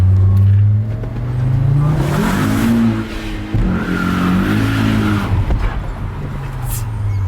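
VW Caddy van fitted with an Audi 2.5 litre turbocharged petrol engine, revving hard and accelerating, its loud engine note climbing through gears with shifts, close and steady throughout.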